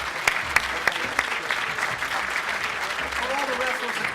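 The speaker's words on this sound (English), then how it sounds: "how about a big round of applause for these amazing inductees?" Audience applause for high school hall of fame inductees at an anniversary ceremony, steady clapping from a large crowd filling the room with a few sharp nearby claps, while a voice talks over it toward the end.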